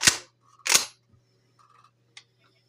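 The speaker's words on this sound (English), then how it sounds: "When you rack the pumps, that's how you got to do it." A pump-action shotgun is racked manually, two sharp metallic clack-clack strokes in quick succession up close, followed by a faint small click and quiet.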